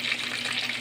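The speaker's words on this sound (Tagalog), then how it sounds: "magluto tayo ng pritong talakitok mga katropa" A large talakitok (trevally) fish frying in hot oil gives a steady, dense sizzle heard close up and alone.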